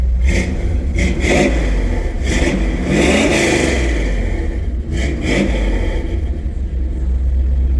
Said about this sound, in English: Let's get a couple revs, see if you can hear this thing.